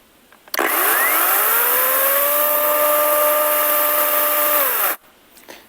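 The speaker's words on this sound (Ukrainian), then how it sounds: "Пилка набирає плавно. Це, я так розумію, перша швидкість. Включаємо другу." A Start Pro SCS/B-21/16 cordless saw switched to its second speed, a loud steady electric motor whine that ramps up, holds level for about four seconds, then cuts off abruptly.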